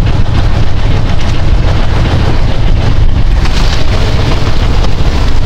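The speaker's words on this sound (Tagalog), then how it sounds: "Amihan ang hangin." Strong amihan northeast monsoon wind roars steadily and loudly against the microphone, a dense continuous buffeting rush with no let-up and no voices.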